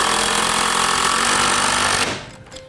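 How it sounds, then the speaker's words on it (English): A power drill drives a screw into a wooden bulkhead with a loud, steady, buzzing whir up close that cuts off abruptly, leaving faint handling noise. "Screw that one in there."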